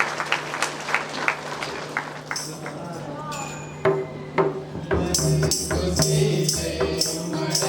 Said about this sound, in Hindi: तो आइए तालियों के साथ हम उनका भी मंच पर स्वागत करते हैं।